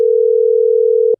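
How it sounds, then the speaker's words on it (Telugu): Telephone busy signal: a single steady electronic tone that holds evenly for just over a second and then cuts off, heard alone and fairly loud. "ఎప్పుడు కాల్ చేసినా బిజీ వస్తుంది"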